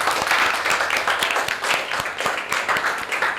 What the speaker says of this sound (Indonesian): Semuanya bisa angkat tangan dan tepuk tangan sama-sama